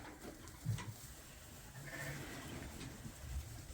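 Faint bleats from lambs and ewes in a farm pen, a few scattered calls over low background noise, distant and soft.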